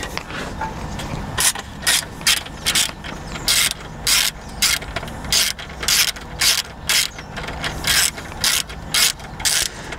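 Ratchet tightening the two rear mounting screws on a Vespa GTS 300 HPE scooter during luggage rack installation, giving a steady series of crisp clicking bursts in quick repeated strokes, close and alone.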